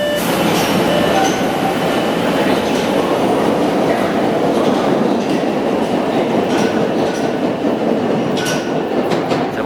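Steady roar of a Boston Orange Line subway train in motion, rumbling wheels with faint rhythmic clacks and occasional metallic squeals, loud and continuous throughout.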